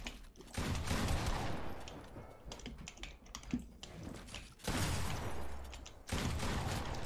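Dense video game gunfire in long, rattling bursts with short breaks between, mixed with busy keyboard clatter, steady and moderately loud.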